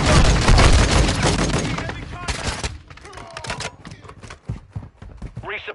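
Gunfire in Warzone 2, rapid loud bursts of automatic fire at first, then scattered single shots and distant pops, with a voice talking between them.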